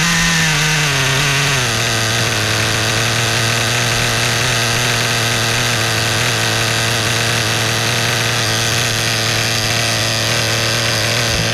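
A new nitro RC car engine being run in revs steadily high, a buzzy, constant drone that dips slightly in pitch early on, then holds alone without talk.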